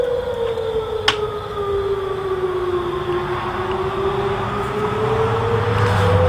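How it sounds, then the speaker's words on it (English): A wailing siren holds a long, slowly rising and falling tone over a constant low rumble, with one brief sharp click early on. "Air raid sirens."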